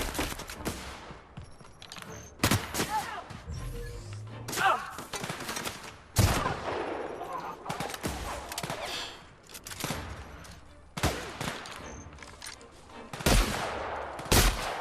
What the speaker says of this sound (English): Oh, this is the shotgun.